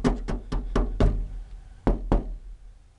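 Sharp taps of a screwdriver against the steel door of an early Ford Bronco, checking for Bondo filler: five quick knocks in a row, a pause, then two more, close and clear with no talking.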